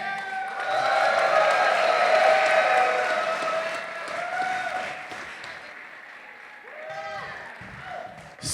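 A crowd at a Power Morphicon 2022 convention panel claps and cheers in a full swell that gradually fades, with voices and whoops mixed through the applause.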